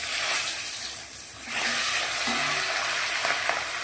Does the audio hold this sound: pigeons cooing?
no